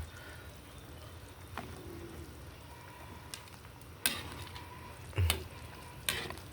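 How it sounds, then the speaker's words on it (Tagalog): A goat head and feet sinampalukan, a sour tamarind stew, bubbles quietly in a pot while being stirred, with a soft steady simmer and a few sharp scrapes and clinks of the spoon against the pot. "pabayaan lang po natin siyang kumukulo at halu-haluin lang po natin"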